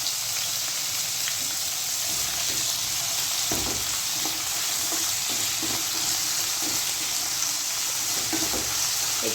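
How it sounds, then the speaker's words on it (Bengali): Cauliflower and potato pieces frying in a pan give a steady, close sizzle, broken by a few soft clicks and scrapes as they are stirred. "একটু কপি আলু ভালো করে ভেজে নিই"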